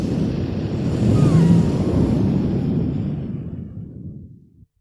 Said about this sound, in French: Lorsqu'il n'est pas du tout content, Monsieur le Vent souffle encore plus fort.